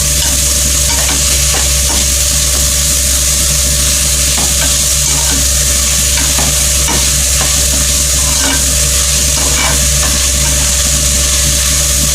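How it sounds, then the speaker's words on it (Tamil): Onion and two tomatoes sautéing in hot oil in a pan for a prawn and broad bean thokku, with a steady sizzle and repeated stirring scrapes throughout, close and loud with no talking. "எண்ணெய் காஞ்சிச்சு, அதனால் ஒரு வெங்காயம் 2 தக்காளி போட்டு வதக்கிக்கோங்க"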